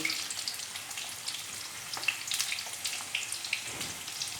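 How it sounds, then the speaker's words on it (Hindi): Potato snack pieces crackle and sizzle in hot oil during a first, partial fry, a dense, steady crackle with scattered pops, close up, with no voices. "हाफ फ्राई हमने की है। हाफ फ्राई करके तो हम निकाल लेंगे"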